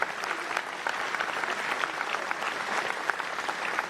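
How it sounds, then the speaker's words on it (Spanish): Sustained audience applause fills the whole stretch, dense, even clapping from a large crowd at a close, steady level. "Y ya lo vemos en los aplausos,"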